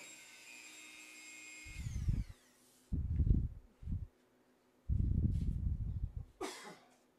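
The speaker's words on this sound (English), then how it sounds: "So there's the Dremel." A Dremel rotary tool cuts in several short bursts, rising with a whine and stopping in between, near and fairly loud. A sharp rasping noise comes near the end.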